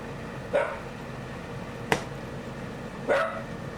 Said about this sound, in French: j'ai un chien, dès qu'elle a la moindre mouche qui pète, il aboie